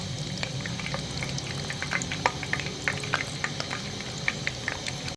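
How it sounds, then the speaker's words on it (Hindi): Chicken tikki balls frying in hot oil give a faint, steady bubbling with scattered small crackles and pops, close by and with no talking. "ऑयल गर्म होने के बाद अब मैं इनको फ्राई कर लूँगी।"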